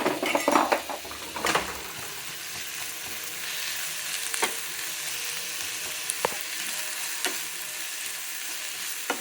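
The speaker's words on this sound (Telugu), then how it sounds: "ఇప్పుడు దీన్ని ఫ్రై చేసుకుందాం. 2-3 సెకండ్లు ఫ్రై చేసుకుందాం." Ginger paste and green chili paste frying in hot oil, a constant close sizzle with a few sharp clinks of a utensil stirring against the pan, no voices.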